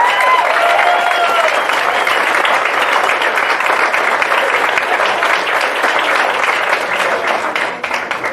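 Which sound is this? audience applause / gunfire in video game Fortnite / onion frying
audience applause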